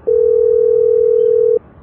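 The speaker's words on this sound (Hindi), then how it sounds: "रुको गोलू के दोस्तों को फोन करता हूँ।" A steady telephone dial tone hums at one constant pitch for about a second and a half, clear and close, then cuts off abruptly with no voices over it.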